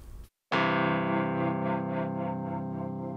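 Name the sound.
Eventide Undulator tremolo effect on Mellotron clavichord, iPad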